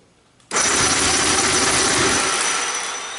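Outboard engine cranking over with the throttle valves wide open during a compression test: a sudden, loud, steady whirring drone that starts abruptly and holds close and even, with no voices.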